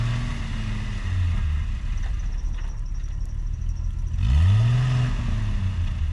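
A car stuck in wet snow revs as its wheels spin, with engine pitch rising and falling in two surges over a low rumble. No one speaks.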